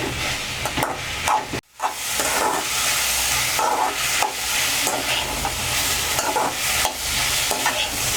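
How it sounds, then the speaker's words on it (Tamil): Ivy gourd sautéing with onion and tomato in a pan, a constant loud sizzle broken by repeated spoon scrapes and stirring clatter, with a brief dropout early on and no voices. "இந்த ஸ்டேஜில் இப்போ நம்ம வெட்டி வச்ச கோவக்காயை சேர்த்துக்கலாம். கோவக்காய் நல்லா வதங்கணும்."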